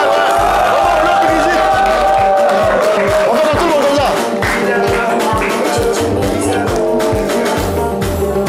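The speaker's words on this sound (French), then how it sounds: "Les amis, faites du bruit pour le moment d'Aputu National." A television studio audience on a French-language show roars with cheering, whoops and shouts, a loud continuous crowd din over pounding music, with a host's voice cutting in.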